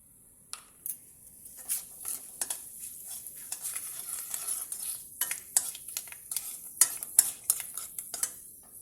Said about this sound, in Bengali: তেল গরম হয়ে গেছে, তেজপাতা দিয়ে দিলাম।